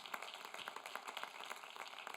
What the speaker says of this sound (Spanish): Démosle un aplauso a Jesucristo en esta tarde.